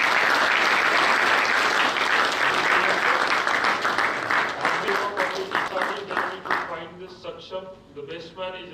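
An audience at an agricultural event gives a dense, sustained round of applause that holds loud at first, then thins into scattered individual claps and fades, with voices mixed in toward the end.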